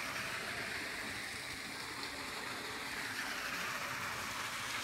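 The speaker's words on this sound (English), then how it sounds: "We are down by the waterfalls." A waterfall rushes in Sabino Canyon, Tucson, Arizona, a faint steady broadband wash of flowing water heard from some distance, unbroken and without voices.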